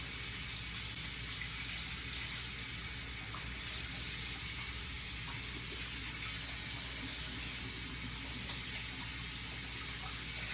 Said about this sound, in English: Gonna stick this in the sink. And I'm gonna do another quick wash of my hands.